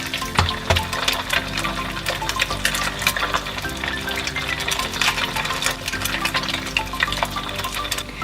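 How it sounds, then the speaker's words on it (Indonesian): Five beaten eggs scramble in hot garlic oil, crackling and sizzling steadily while a utensil stirs and scrapes the pan throughout. "Lalu kita bikin scramble egg dengan 5 butir telur."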